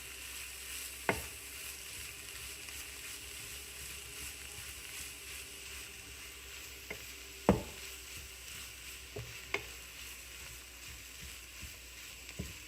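Poha with vegetables being stirred in a pan, a quiet low sizzle broken by a few sharp spoon knocks and scrapes against the pan, with no talk.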